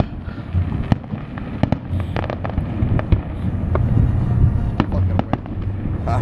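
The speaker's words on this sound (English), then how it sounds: "We had our own fireworks." Fireworks pop and crackle from a boat in Toms River on the Fourth of July, with sharp reports scattered over a steady rumble of wind, and people talking between bursts.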